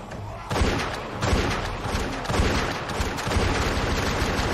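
A shotgun fired in a video game, its loud blasts landing in rapid succession almost like automatic fire, each burst booming into the next.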